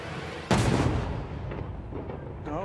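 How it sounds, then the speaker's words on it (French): A fireworks cannon fires with one sudden loud boom, followed by a long rumbling decay and faint further reports behind it. "C'est les canons."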